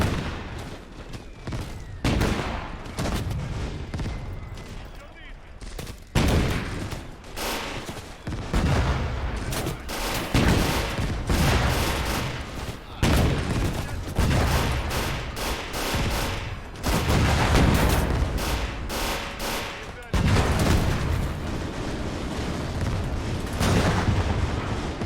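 Mortar fire and gunfire in the World War II game Gates of Hell during a 1941 Soviet defense outside Moscow, with dense, loud volleys of rifle and machine-gun shots punctuated by heavy booming blasts that keep going throughout.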